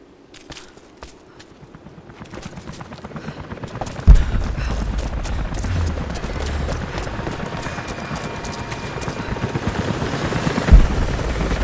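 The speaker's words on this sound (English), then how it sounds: "helicopters are headed your way." Helicopters approach in the video game Rise of the Tomb Raider, their rotor thump building from faint to a loud, steady drone, with heavy impacts near the middle and end.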